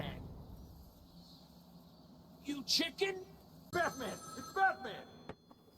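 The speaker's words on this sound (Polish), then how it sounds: "nie muszę odbierać tego telefonu" Telephone ringing in Batman: Arkham City, several electronic ring bursts in the second half over quiet game ambience, with someone talking in Polish.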